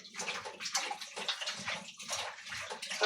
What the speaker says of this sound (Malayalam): ഇനി നമുക്കിത് നന്നായി ഒന്ന് കഴുകിയെടുക്കാം